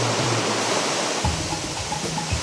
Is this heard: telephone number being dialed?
no